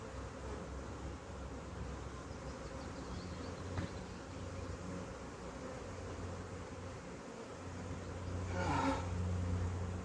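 Honey bees hum in a dense, continuous buzz around an open beehive, with a low droning bed and individual insects passing close, one swelling briefly near the end.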